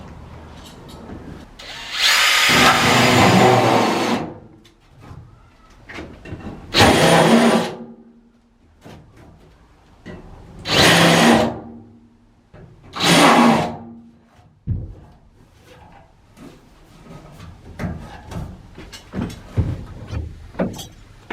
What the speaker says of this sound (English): So I like to deburr the other side.